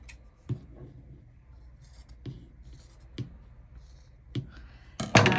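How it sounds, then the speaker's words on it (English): Scissors cut material along the stem of a Dollar Tree wire pumpkin being made into a Christmas wreath. A handful of separate, crisp snips fall about a second apart over a quiet room. "And what I want to do is go ahead and cut along the stem here"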